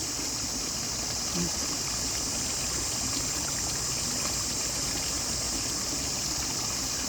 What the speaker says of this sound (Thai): เมื่อกี้น้ำไหลแรงแรง ตอนนี้น้ำเบาแล้วค่ะ